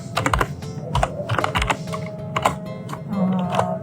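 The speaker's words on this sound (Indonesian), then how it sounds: "Kita beneran bisa ngetik di dalam komen sini" Rapid clicky keystrokes on a computer keyboard come in quick bursts with short pauses, close and fairly loud, with faint background noise and no speech.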